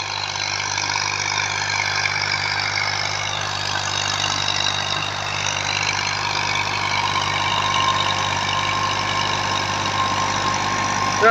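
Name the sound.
Massey Ferguson 240 tractor engine idling, 2000 model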